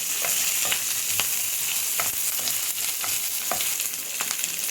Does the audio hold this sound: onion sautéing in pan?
yes